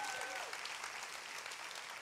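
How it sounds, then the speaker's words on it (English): A church congregation applauds volunteers, a dense, even wash of many hands clapping at once, sustained and fairly distant, with no break. "Can we give ourselves a big round of applause for that?"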